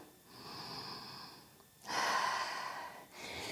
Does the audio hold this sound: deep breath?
yes